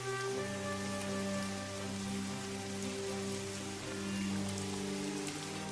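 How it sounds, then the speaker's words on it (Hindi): Heavy torrential rain drums steadily in a Hindi cartoon story, a constant close wash of falling water under a sustained musical drone, with no voices. "एक दिन बहुत मूसलाधार बारिश हो रही थी।"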